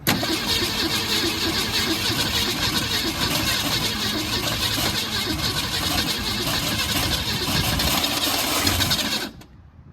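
Old Ford Falcon engine that sat for 46 years, cranking continuously with a dense, rough mechanical roar under a fresh fuel supply, loud and close, then cutting off abruptly near the end.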